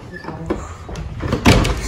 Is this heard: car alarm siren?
no